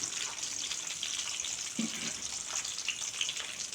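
Mustard seeds, urad dal, garlic, curry leaves and whole shallots sautéing in a pan for a yam curry, a soft steady sizzle with faint hiss and a brief clink partway through.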